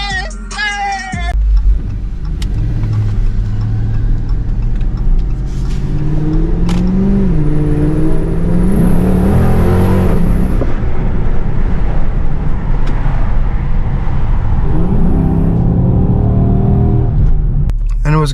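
A Dodge car engine and exhaust rev repeatedly up and down nearby, loud rumbling swells after a belt, idler pulley and tensioner change, with someone speaking briefly at the start and end.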